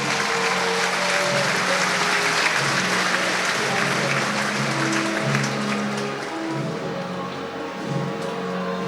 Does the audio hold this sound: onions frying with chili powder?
no